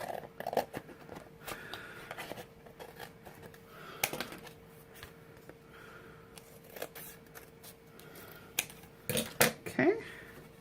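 Scissors snipping out a handmade watercolor mason jar card, with scattered quiet clicks and crisp cuts that cluster into a faster burst of snips near the end, close and faint in a quiet room.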